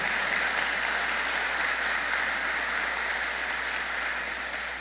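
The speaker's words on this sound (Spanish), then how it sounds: "déle un fuerte aplauso al Señor Jesús" A church congregation applauding at a service, a steady wash of many hands clapping at moderate level, continuous and even before easing slightly at the close.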